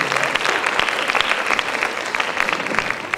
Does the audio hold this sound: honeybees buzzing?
no